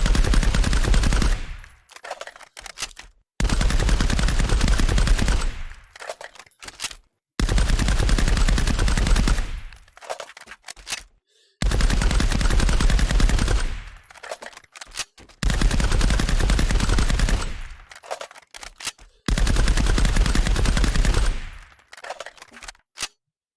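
Repeated bursts of FN FAL rifle fire from the video game Contractors, loud and close, arriving as six sustained volleys of rapid shots separated by brief quiet gaps.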